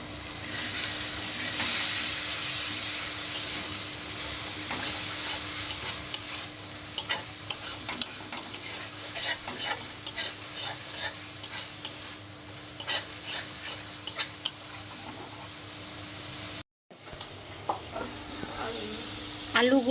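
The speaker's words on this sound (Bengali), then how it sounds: "যাতে মশলাটা পুড়ে না যায় অল্প জল দিয়ে ভালো করে কষে নেব।" Spices stir-fried in a pan with a little water, a loud steamy hiss at first that settles into a frying sizzle under repeated scraping and stirring strokes, with a brief cutout near the end.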